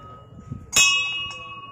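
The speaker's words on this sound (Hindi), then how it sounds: "चलिए घंटी बजाते हैं।" A temple bell at Maa Bhavani temple is struck once, a loud bright clang that rings on and slowly decays, with faint talk just before the strike.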